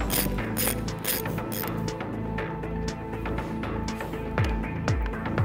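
Bolts being hand-tightened on a REMBE Q-Flap RX explosion flap housing (DN450–DN710), giving steady close-up ratcheting and metallic mechanism clicks with a few rising squeaks near the end.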